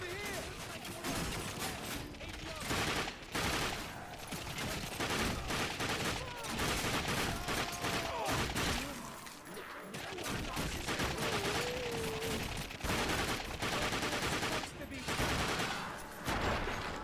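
Gunfire rattles almost nonstop in the video game The Darkness II, with dense rapid shots and machine-gun bursts close and loud over a busy combat background.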